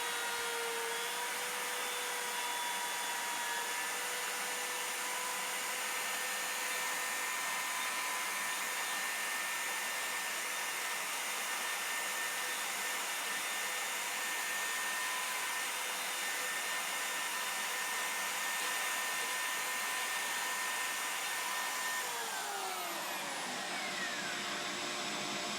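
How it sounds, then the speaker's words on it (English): A router runs continuously while cutting a mortise through a 3D-printed jig, a loud, steady high-pitched whine with a faint shift in pitch near the end as the cut finishes. "Now I route the mortise in a clockwise fashion."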